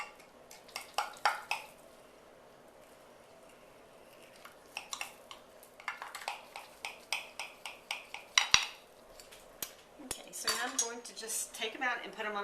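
A knife cuts through baked spinach squares in a baking pan, producing scattered scraping strokes and sharp metallic clinks against the pan, close and fairly quiet, with a voice speaking softly in places.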